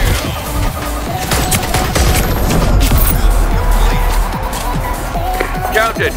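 Rapid bursts of Sprinter SMG fire in the video game Splitgate 2, loud and close with dense clattering shots and impacts, mixed with other in-game effects and a voice talking over the action.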